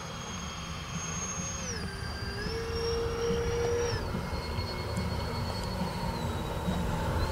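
A radio-controlled A-10 Thunderbolt model jet with twin 70mm electric ducted fans whines steadily at moderate distance, its high tones sliding down and back as the throttle changes, over a constant rushing hum with no talk.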